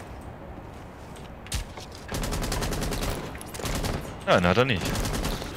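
Video game gunfire: quiet ambience gives way to rapid, rhythmic automatic shooting in sustained bursts, with brief speech and a few sharper shots late on.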